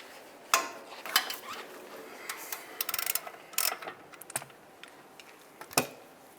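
Sharp ratchet clicks and brief mechanical snaps from a wrench loosening a caliper bracket bolt on a 2007-2015 Mazda CX-9 during wheel hub work, coming in short irregular bursts with quiet gaps, close and fairly faint.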